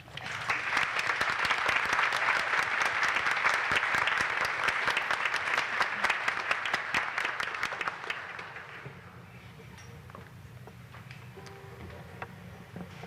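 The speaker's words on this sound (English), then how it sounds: "Please join me in a final round of applause." A large audience at a PeaceHealth gathering gives a final round of applause, dense and steady for about eight seconds before fading into quiet room tone with scattered claps.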